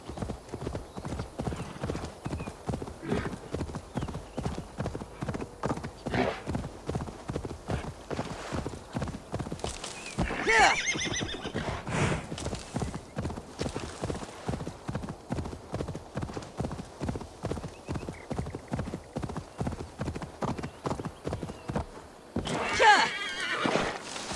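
A horse gallops in Assassin's Creed Valhalla with a fast, steady clip-clop of hooves throughout, and loud neighs break in twice, near the middle and near the end.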